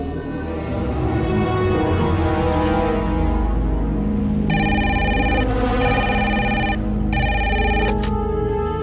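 A landline telephone ringing at a farmhouse, repeated electronic bell tones sounding in bursts over a dramatic music bed, loud and continuous.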